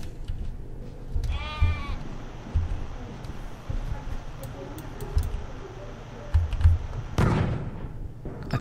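A sheep bleats once in the Wormix video game, a short wavering call over busy game sounds, with a loud blast or impact near the end and a voice talking throughout.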